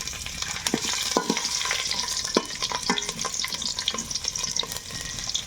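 Whole garlic and five-spice frying in hot oil for a village-style mutton curry crackle and sizzle continuously up close, punctuated by frequent clacks and scrapes of a stirring utensil.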